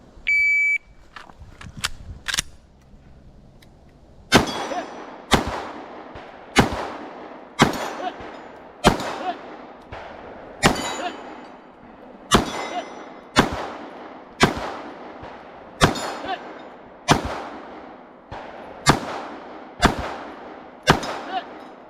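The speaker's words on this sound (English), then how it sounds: "Nope, you got to shoot that one, then drop the mag and shoot it." Pistol shots from a Wolf T91 rifle during a run-and-gun shooting drill, about fifteen sharp cracks fired at a steady pace roughly one per second, with a beep and a few faint clicks before the first shot.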